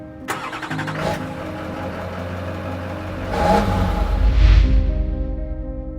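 A Mitsubishi diesel race car engine cranks and catches, settles into a rough idle, then revs up loudly in a couple of rising bursts, heard close and without talk.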